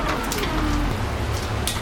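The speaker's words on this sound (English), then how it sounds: "Oh, it's raining outside. Oh. It's hailing." Hail falls outside in a steady, dense hiss of many small impacts spread evenly across the clip. The sound is moderately loud and comes from a short distance, with no talking over it.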